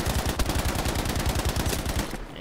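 Rapid automatic gunfire from an STG 44 assault rifle in Battlefield 5 multiplayer, a loud, dense stream of shots for about two seconds before cutting off abruptly.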